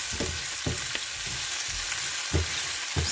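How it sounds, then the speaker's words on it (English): Prawns and seasoning sauté in a small amount of oil, giving a steady bright sizzle with a few soft stirring scrapes, close and alone without talk. "saute this for like 2 to 3 minutes"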